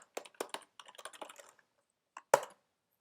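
Keystrokes on a computer keyboard, a quick run of clacks followed by a pause and two sharper final taps, close and clear with no voices.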